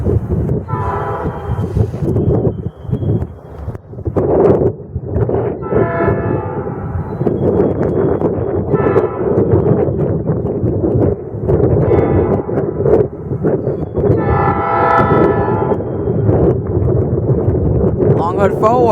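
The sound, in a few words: Norfolk Southern switcher locomotive passing with train horn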